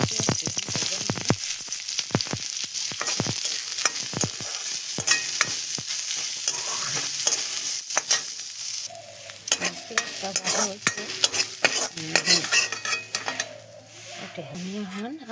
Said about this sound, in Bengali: তেল দিয়ে দিলাম। আমার মরিচটা ভাজা হলে